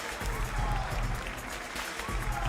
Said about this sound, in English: as he enjoys the plaudits of the crowd here in Milan